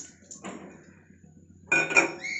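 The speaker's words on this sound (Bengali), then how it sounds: "এবার আমি এই জবদানাগুলোকে কড়াই নেড়ে নেবো একটু" Fried barley pearls being stirred in a wok with a spatula: two short bursts of metallic scraping and clinking separated by a quiet pause, close and alone.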